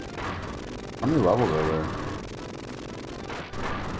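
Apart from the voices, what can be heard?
grenade explosions in Rambo III video game (Genesis)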